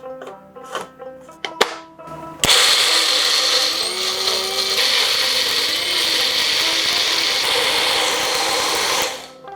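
A kitchen grinder whirs steadily as it blends grated coconut, salt, turmeric and a little water into a smooth paste for steamed hilsa, the loud motor starting abruptly after a few light clinks and running continuously.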